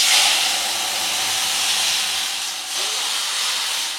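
Coconut milk boiling in a pan, giving a loud, steady steamy hiss with soft bubbling throughout and a brief dip in intensity near the end.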